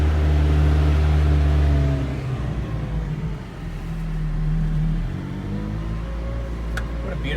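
McLaren Senna sports car cruising near St. Armand Circle in Sarasota, a steady low engine drone with strong low harmonics that eases off partway and then swells again, with no voices.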